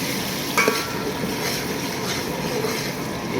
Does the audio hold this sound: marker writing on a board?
no